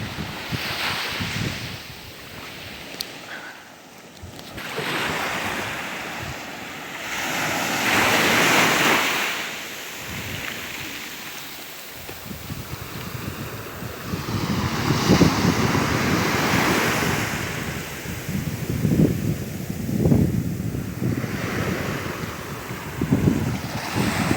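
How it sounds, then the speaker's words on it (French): Sea waves washing onto a beach, swelling and receding in slow surges over a constant windy rush, fairly loud and continuous with no talking. "il y a peut-être la mer qui fait du bruit"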